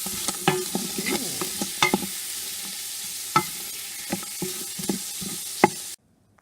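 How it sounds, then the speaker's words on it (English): Onions sauté in short rib drippings inside a pressure cooker pot, giving a steady close sizzle with occasional sharp spoon knocks and scrapes against the pot, then stopping abruptly. "going to place the onions in. Normally I like to put a pepper in, but I don't have any. Lightly saute these."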